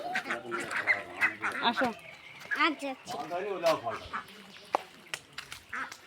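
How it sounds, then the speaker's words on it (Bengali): Ducks at a pond beside a village road quack in repeated raspy bursts, fairly near, mixed with people talking close by. "হাঁস।"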